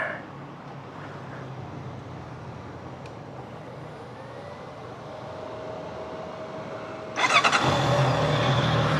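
A 2025 Honda CBR650R with its stock exhaust idles steadily and low for several seconds, then its engine note jumps sharply louder and broader near the end.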